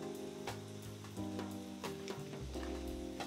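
An egg sizzles on a grill at a Korean BBQ meal, a steady crackling hiss running through the clip beneath louder tonal music.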